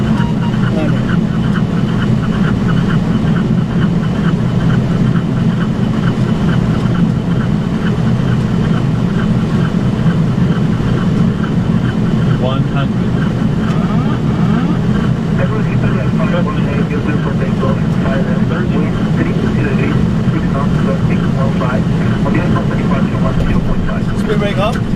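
A Boeing 767-300ER lands in a storm at Mexico City, with a loud, steady low cockpit rumble of engines and airflow throughout and crew voices over it.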